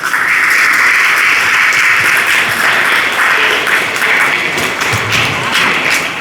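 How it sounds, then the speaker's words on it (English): An audience at a school Independence Day event applauds the chief guest, steady dense clapping that holds loud and even from start to finish with no one speaking. "Please join me in giving a warm round of applause to our most respected guest"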